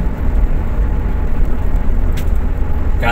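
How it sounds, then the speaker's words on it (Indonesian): Road traffic roars steadily on an Indonesian toll road near KM659 as a convoy of buses passes close by, a dense low rumble throughout with a brief hiss near the end. "Kita melihat iring-iringan bis"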